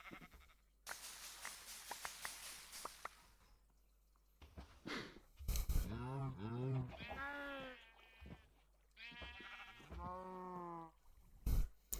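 Sheep bleating in the Minecraft video game, several repeated harmonic bleats in the second half following a stretch of noisy game sound, fairly close and clear with no talk over them.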